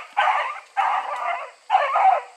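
Several dogs bark in three loud, close bursts, stirred up while a beagle chases rabbits through brush outdoors.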